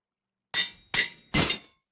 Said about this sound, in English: I broke my